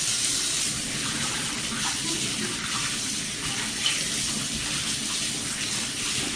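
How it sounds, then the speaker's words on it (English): A kitchen tap runs in a steady, close gush of water while hands are washed underneath, with even splashing throughout and no speech. "Carol, I'll wash my hands"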